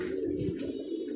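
A pigeon coos softly and close by, a low throaty burbling note in a short, continuous phrase.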